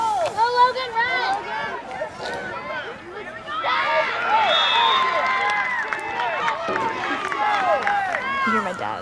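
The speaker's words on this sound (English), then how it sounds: "You hear my dad's team over there yelling and cheering." A football team on the sideline of a Knob Noster game shouts and cheers from a short distance, with a tangle of overlapping excited voices swelling into sustained yelling midway.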